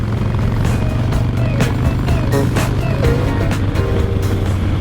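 A vintage motorcycle engine with a rebuilt carburetor runs steadily up close, a continuous loud idle with a rumbling low end and no break across the few seconds.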